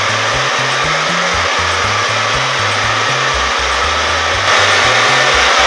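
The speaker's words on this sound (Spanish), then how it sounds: "Y ahora ya empezamos con el secador." Hair dryer running continuously while drying freshly washed hair: a loud, steady close-up whoosh of air with a wobbling motor hum, swelling slightly louder near the end, with no talking.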